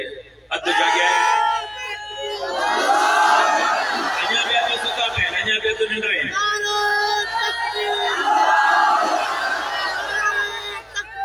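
A religious gathering's crowd answers a takbir slogan with loud, sustained collective chanting of Allahu Akbar, a dense roar of many voices rising after a brief pause and swelling in waves for several seconds.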